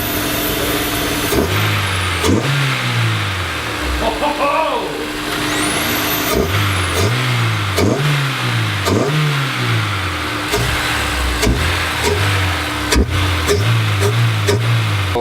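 A Honda S2000 engine revs repeatedly in loud, rising bursts with a throaty intake roar, steady rhythm of climbs and drops, with brief voices in the background.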